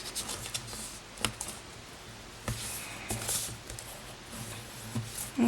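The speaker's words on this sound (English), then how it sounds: "I'm just going to start by folding and burnishing over each end" Paper pillow box ends folded and burnished, quiet crisp scrapes and soft taps coming in short irregular bursts, close up and faint, with no talking.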